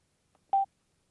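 A short, clean electronic beep sounds once from an HJC SPIRIT helmet intercom after its media button is tapped, preceded by a faint click in otherwise quiet surroundings.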